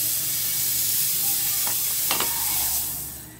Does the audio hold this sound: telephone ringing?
no